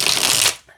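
Halloween-themed tarot card deck shuffled by hand, one brief, close, crisp riffle of cards that cuts off quickly.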